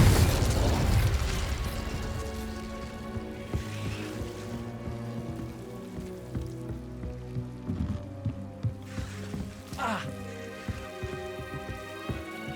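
Confringo fire-blast spells burst in Hogwarts Legacy gameplay, several short explosive pops and impacts landing over an orchestral fantasy score, with a loud crashing hit at the start and smaller bursts spread through the rest.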